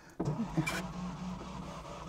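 A classic Fiat 500 engine cranks once and fails to start, a brief mechanical whir and click close by, followed by a low rumbling hum.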